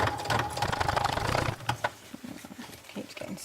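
Sewing machine running a triple stitch with thick top-stitching thread on leather for a bag, a steady mechanical whirr for about a second and a half, then a few brief, sparser clicks and thumps as it slows.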